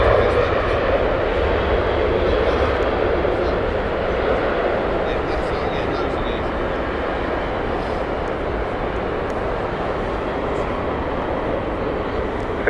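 A United airliner taxis at Heathrow Airport, its jet engines giving a loud, sustained roar that runs unbroken throughout while a voice talks over it.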